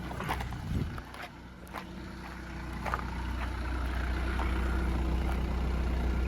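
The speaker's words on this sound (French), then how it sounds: "ça fait un petit peu de bruit, c'est normal, c'est un diesel, donc quand c'est froid, ça fait toujours un petit peu de boucan" Cold diesel car engine running, a steady low rumbling idle with some clattering knocks early on, then settling into an even drone, heard up close.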